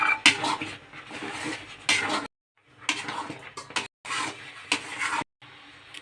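Raw mango preserve stirred in a pan with roasted spice powder, a close spoon scraping and clinking in short bursts separated by brief silences, quiet overall with no talking.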